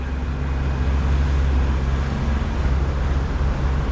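Outboard engine on a fishing boat just after launch on the windy Menai Strait, a steady low motor drone running continuously and fairly loud, with wind rumble mixed in and no talk.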